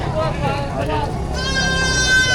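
Goats bleat with a rising, harmonic cry over a busy background of people talking nearby at a livestock market in Padre Garcia, Batangas.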